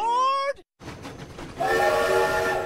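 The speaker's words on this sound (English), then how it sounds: "So come on along with me on the dinosaur train." A cartoon train on the Dinosaur Train children's show, with steady mechanical rumble and a sustained whistle-like horn tone rising loudly toward the end, following a brief sung tone and a short pause.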